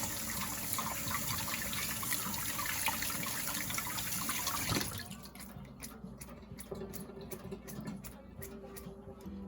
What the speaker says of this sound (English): lather your hands up with soap and water